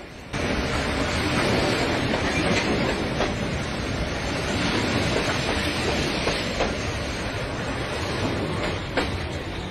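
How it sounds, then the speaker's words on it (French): A train moves along the track with a loud, continuous rumble and roar, faint rhythmic clicks of wheels over rail joints showing through, heard close with no talking. "Le train avance."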